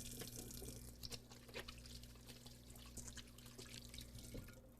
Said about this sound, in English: Let me just wash my hands a second